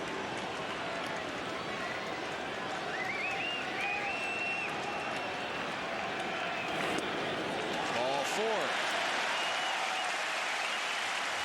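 Steady, dense applause from a baseball crowd of about 35,000 at Rogers Centre, Toronto, during a White Sox versus Blue Jays game, sustained and broad, with faint voices mixed in.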